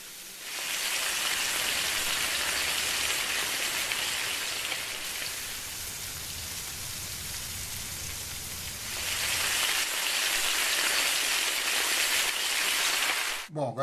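Frying bacon standing in for rain as a foley effect, a dense, steady sizzling hiss like heavy rainfall that runs the whole stretch and swells louder near the end.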